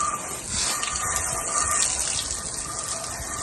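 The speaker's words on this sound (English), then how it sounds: "give it a good rinse" Pressure washer rinsing outdoor timber after cleaning: a steady, loud hissing water spray runs continuously with little change in strength.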